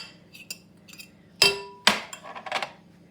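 Courgette strands, flour and grated cheese being stirred together in a bowl, heard as a few light clinks followed by two sharp utensil knocks against the bowl and a brief rustle of mixing, close by and without talk.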